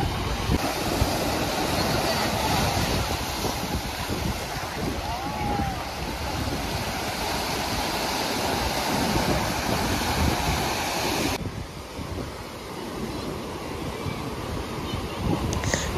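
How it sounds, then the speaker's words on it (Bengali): Sea waves breaking steadily at RK Beach, Vizag, a broad continuous roar of surf with wind buffeting the microphone, loud and close, with no talking. "সমুদ্রের ঢেউগুলো কি দারুণ লাগছে"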